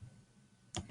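A computer mouse gives a single quick, close click near the end after faint room quiet. A second soft knock follows right behind it.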